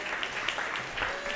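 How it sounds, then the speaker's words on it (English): Audience applause at a fashion and sustainability panel event: a brief, dense patter of clapping from a crowd, with some talk mixed in. "Big round of applause."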